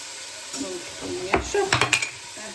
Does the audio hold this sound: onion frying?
yes